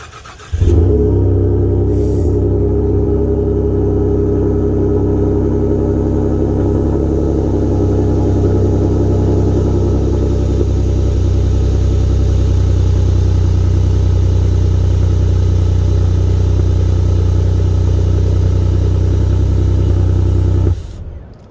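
A truck engine and exhaust run steadily at a low, even idle, with a deep rumble that holds from start to finish and then cuts off abruptly at the end.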